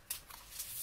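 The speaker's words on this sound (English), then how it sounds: "These cards are very thick, but they actually make for a really comfortable overhand shuffle." Thick, blocky tarot cards from an animal-themed deck run through an overhand shuffle, giving a soft, close papery riffle with a few brief bursts over less than a second.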